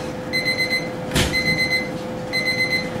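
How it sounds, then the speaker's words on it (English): A chip fryer's timer beeps in a kitchen during a fry-up, sounding three bursts of rapid, steady electronic beeps with a brief clatter between them under a constant background hum. "That's the chip beeper."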